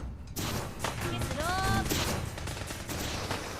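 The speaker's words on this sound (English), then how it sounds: "it looks like I'm gonna need to use a gun" Gunfire in Fallout 4 against an enemy in power armor, a dense run of shots over a steady game soundscape, with a brief tonal whine in the middle.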